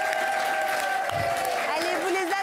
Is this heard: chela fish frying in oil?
no